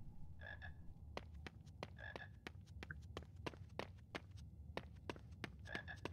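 An invisible frog croaks in a Harry Potter video game, repeated short throaty croaks in small clusters, interleaved with sharp rhythmic taps like footsteps, fairly quiet against a low ambient rumble, with no talking.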